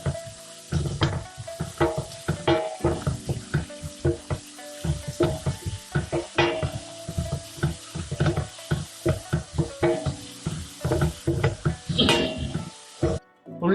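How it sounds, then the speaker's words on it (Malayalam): Onions sizzle and fry in hot ghee for a Mangalore-style chicken ghee roast, with a steady close crackle broken by repeated stirring scrapes and clinks of a utensil against the pan. "നെയ്യ് ചൂടായി വരുമ്പോൾ അതിലേക്ക് സവോള ചേർത്ത് കൊടുക്കാം. അതിലേക്ക് അല്പം ഉപ്പ് ചേർത്ത് സോട്ടേ ചെയ്തെടുക്കാം."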